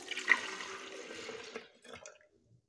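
Milk poured into a bowl for a creamy cornmeal cake batter: a close, steady liquid splashing for about a second and a half, then tapering into a few soft trailing splashes before silence.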